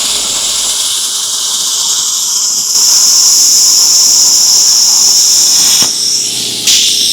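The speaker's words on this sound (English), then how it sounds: "Now I'm using my plasma cutter to cut rectangular gussets from some" A plasma cutter slices rectangular gussets from 1/4-inch steel plate in a home workshop, giving a loud, steady, close hiss. The tone shifts partway through, and a brief pop comes near the end.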